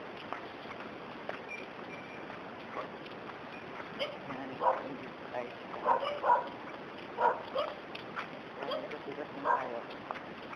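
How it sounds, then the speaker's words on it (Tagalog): A dog barks several times in the distance, scattered yips and woofs rising over a steady outdoor hiss. "May aso."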